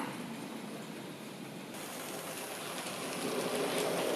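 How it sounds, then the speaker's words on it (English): A Bachmann J39 model steam locomotive hauls a rake of coal wagons along the layout, giving a steady, soft, rain-like rolling rush that grows slightly louder near the end, with no voices. "The next train to appear is a Bachmann J39 hauling a coal train"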